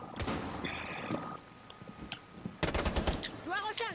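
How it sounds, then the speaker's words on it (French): Bursts of rapid submachine gun fire in the Rainbow Six Siege video game, sharp clustered cracks in two main volleys separated by a quieter gap, with other game sounds around them. "Donc là c'est la petite mitraillette tranquillement."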